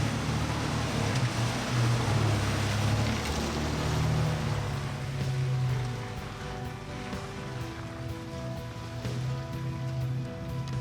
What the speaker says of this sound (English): showing him how easy it was to simply drive right through the water